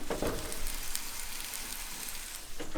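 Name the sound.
steak sizzling in a pan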